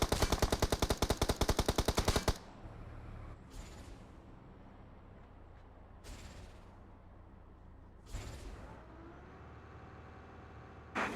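Fast automatic gunfire from the mobile battle royale game BGMI, a loud rapid burst of shots followed by quieter scattered single shots and distant bursts, with a vehicle rumbling underneath.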